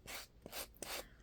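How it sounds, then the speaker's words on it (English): A sanding block rubs a craft piece smooth in quick back-and-forth rasping strokes, about four short scrubbing passes, close and soft, with no talking. "you can smooth them out with the emery board, or with a sanding block like this"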